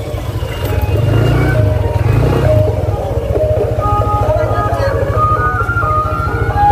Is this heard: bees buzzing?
no